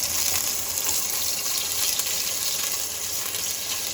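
Orange cranberry meatballs sear in a hot pan, giving a steady, dense sizzle that stays loud and even with no talking.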